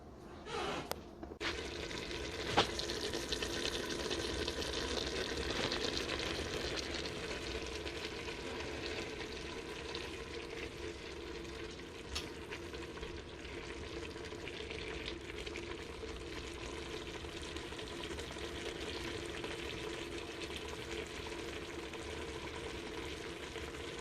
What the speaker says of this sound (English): I'm going to let this go for another half hour on a low simmer